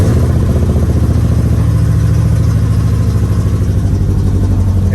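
A Ford 3V engine idles steadily at around 1,000 rpm after a new intake was installed, giving a continuous, even low rumble with a faint clattering tick throughout. It sounds close and fairly loud, with no talking.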